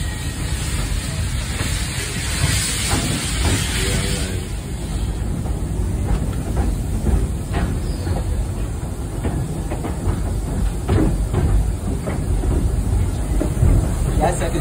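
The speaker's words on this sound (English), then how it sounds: "this train has came from Germany" A tourist train that came from Germany rolls along at St Nicholas Abbey with a steady rumble, hiss and clickety-clack of wheels, close and continuous, with voices faintly underneath.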